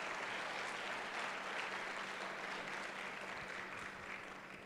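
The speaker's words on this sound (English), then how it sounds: "I think he deserves one more big round of applause" An audience at an awards ceremony gives sustained applause, an even, continuous roar of many hands clapping that fades slightly toward the end.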